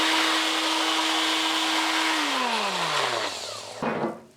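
A Bosch GGS 18 V-LI cordless straight grinder runs loud and steady at a high whine, then its pitch sinks as it spins down toward the end, with a clunk just before it stops.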